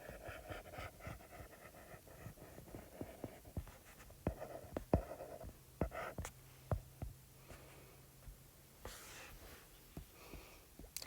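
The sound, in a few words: drawing lions' faces with a pen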